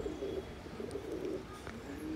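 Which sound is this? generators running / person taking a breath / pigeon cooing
pigeon cooing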